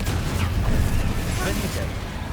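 Bombarda and Confringo spell blasts from Hogwarts Legacy form a dense, continuous rumble of booming explosions with crackling debris, loud and close, with a voice shouting over the din.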